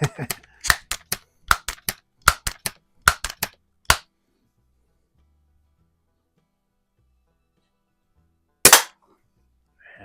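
A Crosman 760 air gun fires a rapid series of sharp, close shots, about a dozen in quick irregular succession, then silence before one more crack near the end.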